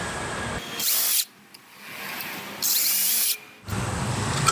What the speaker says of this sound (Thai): เจาะรูนะครับแล้วผมจะตัดนี่นะฮะ